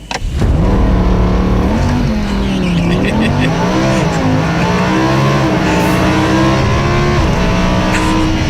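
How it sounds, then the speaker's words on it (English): Rear-wheel-drive Lamborghini Huracán LP 580-2 making a launch-control start on a snowy racetrack, its engine revving loud and steady with rising, falling pitch through the run, close to the mic. "first things first is launch control, or as Lamborghini rather lewdly calls it, thrust mode"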